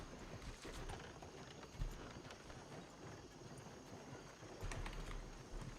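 Horse hooves clip-clopping steadily at a walk as a carriage is drawn along in the Red Dead video game, faint and distant over a soft background hiss.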